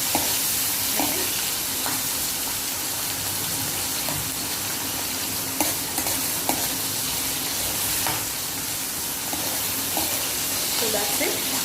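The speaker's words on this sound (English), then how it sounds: "So we are just stir frying it." A pan of capsicum and paneer sizzles loudly and steadily in oil while a utensil stirs and scrapes, making scattered clinks and taps throughout.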